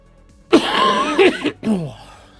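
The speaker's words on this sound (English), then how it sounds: "Apologies for my god awful cough." Harsh, close coughing and throat clearing from a man with a bad cough, a couple of rough hacking bursts with short breaths between them.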